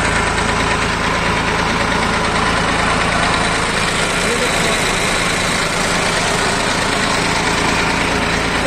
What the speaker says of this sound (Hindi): इस ट्रैक्टर की आवाज ही हकीकत में मतलब दमदार है